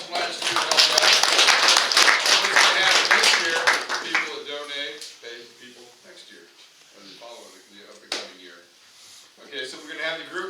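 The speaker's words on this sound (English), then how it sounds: "So let's give those people a big round of applause from last year." A crowd at a bushcraft meetup opening ceremony in Oneida, Tennessee claps for several seconds, loud and dense at first and then fading out as a voice takes over and keeps talking.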